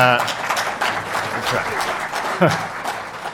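Applause from an audience member at a Heartland Institute talk, with scattered claps running under a man's speech throughout, sparse and moderately close.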